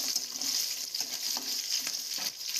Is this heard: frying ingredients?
yes